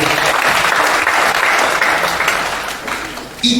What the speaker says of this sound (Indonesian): Tepuk tangan dulu dong untuk Ayu.